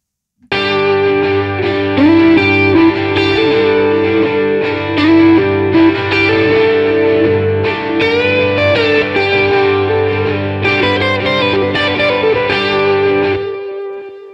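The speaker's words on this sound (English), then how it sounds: "simulate a more natural sounding room environment around these guitars. So I've sent it through Space Designer," Distorted electric guitars, layered in stacks, play a riff drenched in a natural-sounding room reverb from Logic Pro X's Space Designer plugin. They ring out loud and full, without pause, for about thirteen seconds, then stop.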